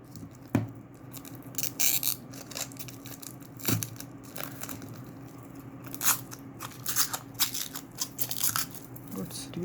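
Plastic packaging around a Western Digital My Passport 4TB portable hard drive is torn and crinkled by hand, giving repeated sharp crackles and rustles in irregular bursts, close and fairly quiet.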